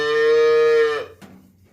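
A cow lets out one long, loud, tonal moo close by in a feed barn, holding steady for about a second before breaking off, followed by faint rustling.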